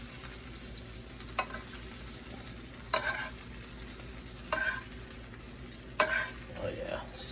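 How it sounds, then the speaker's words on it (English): Porchetta frying in a pan, a steady close sizzle with a few sharp clacks and stirring scrapes spaced through it, no talking. "Just really fry it up, essentially."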